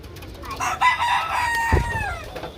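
Chickens on a farm cluck and crow at close range, with several overlapping calls and a short burst of flapping or scuffling partway through.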